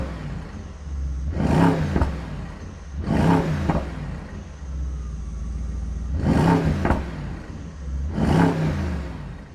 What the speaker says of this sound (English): Have a listen to the V8.